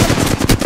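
Rapid automatic gunfire from enemies in a video game shooter, a dense burst of loud, closely spaced shots rattling without pause through the whole moment.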